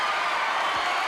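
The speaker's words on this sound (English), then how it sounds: "this capacity crowd is cheering as never before" A capacity wrestling arena crowd cheering during a Hulk Hogan match, a dense, steady roar of many voices that fills the space without a break.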